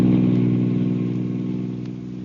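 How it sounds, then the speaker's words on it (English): A car cruises along a highway as a radio drama sound effect, a steady, close engine hum with a low rumble that fades slightly, heard alone without voices. "on the long drive home from New York in the small hours of the morning, Larry heads the car along the highway at a swift pace"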